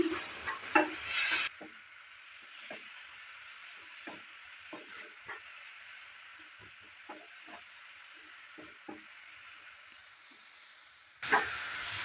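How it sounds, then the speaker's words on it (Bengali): Squash and bori masala with a little added water stirred in a pan: a soft, steady sizzle with repeated scraping strokes of a spoon against the pan, close and fairly quiet, with brief louder bursts of clatter at the start and end. "জলটা দেওয়ার পর আবার ভালো করে মিক্স করে নিচ্ছি।"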